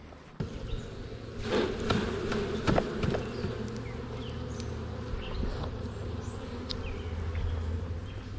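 A dense, continuous buzz of many honey bees swarming around a horizontal hive being split into colonies, steady and close, with a few sharper knocks and rustles early on.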